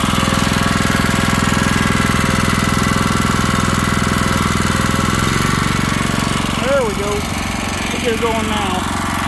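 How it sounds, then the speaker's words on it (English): A Barreto 1320 all-hydraulic tiller's engine runs loud and close throughout, a steady rough mechanical roar, while someone speaks briefly over it. "I'm going to wind her up a little bit here."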